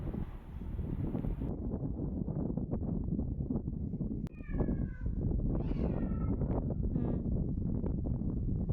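A cat just pulled out of a farm well in a bucket meows a few times, close and thin, over constant rumbling wind noise on the microphone.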